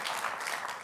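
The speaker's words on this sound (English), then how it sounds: "Let's give Miriam a round of applause." An audience claps at a talk on Israel education, a short burst of even, moderately loud applause filling the room.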